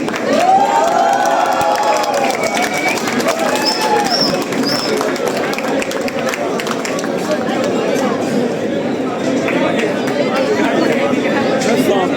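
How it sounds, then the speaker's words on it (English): Dense, loud crowd cheering and chatter at a hackathon grand finale, with shouts, whistles and scattered clapping running steadily throughout and a voice calling out over the din. "please don't stop cheering"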